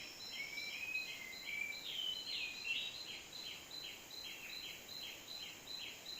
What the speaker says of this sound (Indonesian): Burungnya udah gacor-gacor guys.